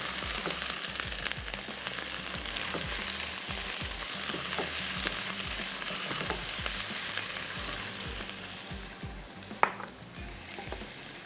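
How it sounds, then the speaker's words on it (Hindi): Chicken pieces fry in a pan for bunny chow, giving a continuous close sizzle broken by repeated low thuds and clinks of a spoon stirring against the metal. "मैं चिकन ऐड कर देती हूँ, थोड़ा सा चिकन को फ्राई होने देते हैं"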